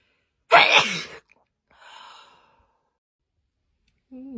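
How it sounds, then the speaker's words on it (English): Someone with a cold lets out one loud, close sneeze, followed by a softer breathy exhale and then near silence. "I just keep sneezing."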